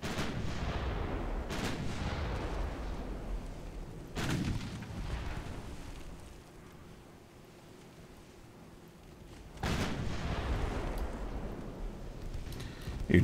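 Naval guns fire at a heavy cruiser in a naval combat game, three sharp booms spaced seconds apart over a constant rumbling engine and sea ambience.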